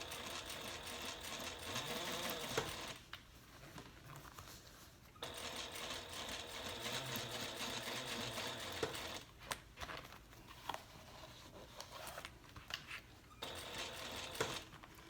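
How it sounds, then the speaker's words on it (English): A sewing machine top stitches through the seam allowance on a handbag's main panel, running in bursts of fast mechanical chatter separated by short pauses, close and moderately loud. "we are still top stitching on the main panel through the seam allowance"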